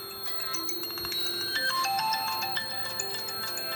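A mobile phone ringtone set off by a call from an Arduino Uno fire detector, a steady melodic tone pattern ringing continuously and moderately loud with no voices.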